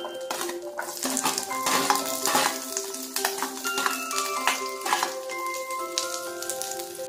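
Onion cooking in melted butter in a pan for paneer masala dosa, a steady soft sizzle with faint clinks of utensils and stirring throughout, no talk.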